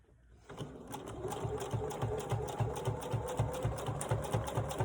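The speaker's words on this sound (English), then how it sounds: "I'll sew this up and show you what I mean." Sewing machine stitching a tech organizer pouch, running steadily with a fast, regular mechanical chatter of the needle, fairly close and continuous throughout.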